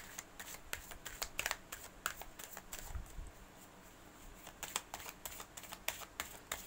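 Tarot cards being shuffled, a quiet, close series of irregular crisp riffles and taps, with no voices.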